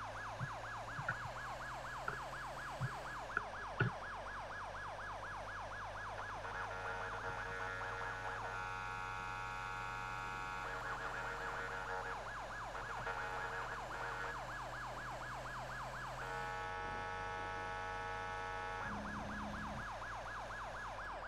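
Fire engine siren heading to a call in FiveM roleplay, a loud electronic wail cycling through yelp and sweeping tones over a low engine hum, with a few short horn-like blips early on and the pattern switching several times.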